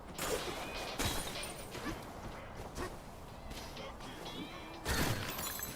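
Donkey Kong's spin attack smashes objects in a video game: sharp shattering crashes burst out near the start and again toward the end, over a steady bed of busy game sound.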